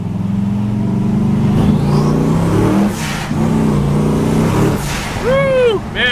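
A 1972 Chevrolet Chevelle with 308 freeway gears accelerates hard, heard from inside the car. Its loud engine roar climbs through the gears with short dips between shifts, and excited voices come through near the end.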